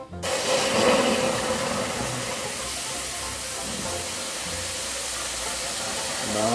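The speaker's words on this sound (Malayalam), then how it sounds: "നാലര കപ്പ് തിളയ്ക്കുന്ന വെള്ളം അങ്ങോട്ട് ഒഴിച്ചു." Boiling water poured over rice frying in ghee for prawn biryani sets off a loud, steady steaming hiss and sizzle that lasts the whole time, with no voices.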